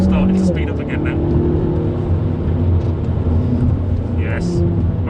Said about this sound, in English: We've started to speed up again now.